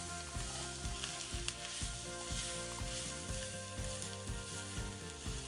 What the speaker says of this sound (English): I'm gonna add in my egg.